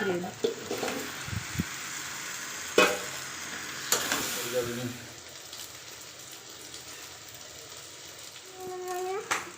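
Bread slices fry in a pan with steady sizzling and a few sharp clinks of a utensil against the pan, while a voice speaks briefly over the cooking.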